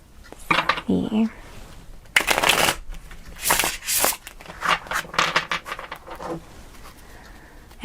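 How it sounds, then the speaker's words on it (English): Tarot cards riffled and shuffled by hand in bursts of crisp flapping and snapping, several separate shuffles with short pauses between, close up, with someone talking quietly around them. "I like to shuffle them on camera"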